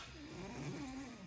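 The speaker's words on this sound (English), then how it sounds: "Are you still snoring?" A dog snores softly with one slow, low, drawn-out breath, close by and quiet.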